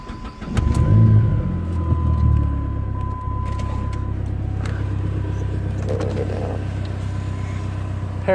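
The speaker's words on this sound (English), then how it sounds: "We're gonna go start it." A Dodge SRT-4 turbocharged car engine cranks and fires up cold close by, revving briefly before settling into a steady, loud idle that holds throughout with no talking.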